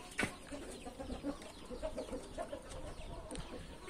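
Chickens in a backyard flock cluck softly and intermittently in short repeated notes, faint and fairly near, with a sharp brief sound at the start.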